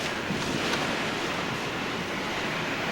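Hurricane Katrina floodwaters wash steadily against a house in Slidell, a continuous, dense rushing and churning with wind noise, loud and unbroken, with no distinct individual impacts.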